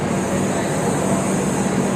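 A steady, loud rumbling drone of a train at Sai Nagar station in Shirdi, India, continuous and even, with a faint high whine above it.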